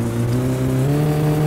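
Satsuma car engine in the game My Summer Car revving hard with rear wheelspin, a strong sustained droning engine note that stays loud and close for a brief moment.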